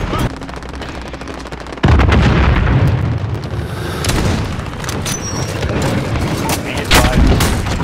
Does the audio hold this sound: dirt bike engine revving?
no